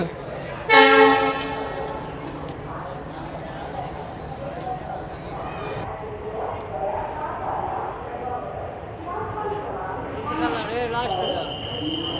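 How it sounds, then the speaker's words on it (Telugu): A train horn blares loudly near the start, then the Kadiri–Devarapalli passenger train (57405) rumbles into the platform steadily with brake squeals and station crowd chatter around it. "ఇప్పుడే ప్లాట్ఫామ్లోకి అయితే ఈ కదిరి దేవరపల్లి ప్యాసింజర్ అయితే రాబోతుంది చూడండి"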